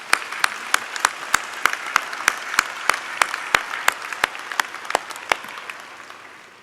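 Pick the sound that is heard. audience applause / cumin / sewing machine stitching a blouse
audience applause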